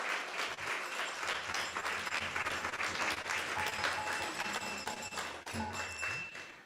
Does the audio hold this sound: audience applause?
yes